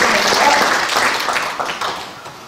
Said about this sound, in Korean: 영상을 화면으로 축사를 보내주신 우리 분들께 다시 한번 큰 박수로